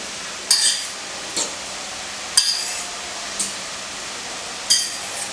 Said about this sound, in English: I'm just going to go ahead and stir in my egg and mix it in